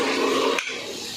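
Cooking water from half-boiled chickpeas is poured off, a loud broadband rush of liquid that cuts sharply partway through and continues more softly.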